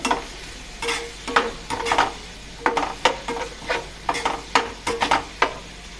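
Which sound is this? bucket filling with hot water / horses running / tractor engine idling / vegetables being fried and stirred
vegetables being fried and stirred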